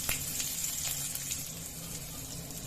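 Curry leaves, ginger and garlic fry in a rasam tempering with cumin paste, making a soft, continuous crackling sizzle with faint spits scattered throughout and no talking.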